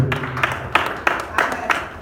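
A church congregation claps in quick uneven bursts that rise and fall over a couple of seconds, mixed with voices and crowd murmur.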